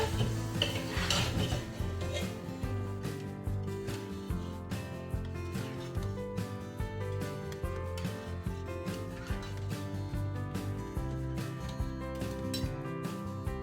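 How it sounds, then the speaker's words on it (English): A spoon stirs kidney beans and lentils through oil and curry paste in a pot, giving steady scraping and clinking against the metal for the whole stretch, with no talking. "I'll cook it in the oil and my curry paste for a bit. Give it a good stir."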